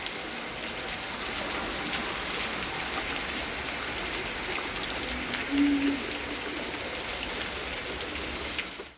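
Continuous rain pours down, a broad steady hiss with drops splashing close by, striking water collecting in an outdoor tub.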